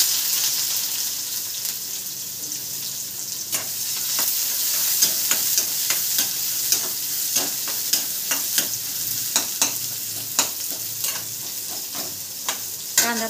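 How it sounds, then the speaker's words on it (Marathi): Chopped onion fries in a pan, a steady bright sizzle close by, with scattered ticks and scrapes from stirring spread through it and no voices. "कांदा थोडासा लालसर भाजून घेऊ"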